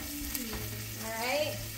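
Shrimp and vegetables hiss in a pan in a short, soft, continuous sizzle, with a faint tonal squeak near the end.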